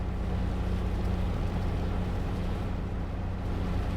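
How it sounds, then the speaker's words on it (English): A combine harvester engine in a farming video game strains under a heavy crop, a constant loud low drone with a steady hum that runs unbroken and with no talk over it. "It seems to be a really heavy crop because the engine is struggling quite a bit."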